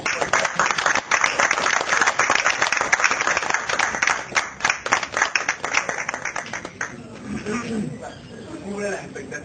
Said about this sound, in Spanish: Aplaudimos todos